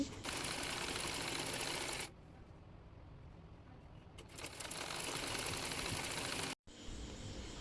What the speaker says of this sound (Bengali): এরপর হাতায় লেস সেলাই করে নিই।